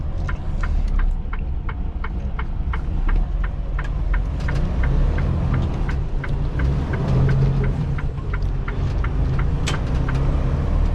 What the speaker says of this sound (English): Those first 4 gears, you go through like 5 gears, nah, like 15, 20.